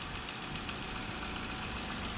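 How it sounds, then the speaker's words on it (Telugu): A car engine idles quietly under the hood, giving off a soft, even, continuous hum with no revving or changes in pitch and no one talking. "చాలా సైలెంట్గా ఉంది ఇంజన్ అయితే"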